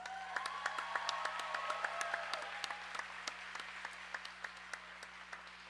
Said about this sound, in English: let's put our hands together for all the volunteers who make all this possible